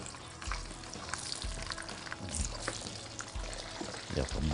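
Boiled pork belly for Thai salt-roasted pork goes into hot oil in a pan, setting off a close, crackling sizzle with pouring and stirring noises as someone talks over it.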